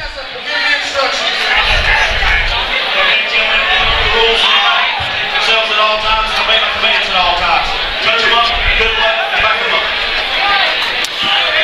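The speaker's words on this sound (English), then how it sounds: "Obviously a big pro Earnhardt crowd here" Crowd at an MMA fight-night event roars and cheers loudly and continuously, with dense chatter and bursts of noise filling the arena throughout.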